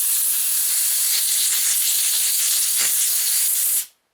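Brake cleaner sprayed from an aerosol can onto a chainsaw part to rinse off degreaser, a steady loud hiss held for several seconds before cutting off abruptly.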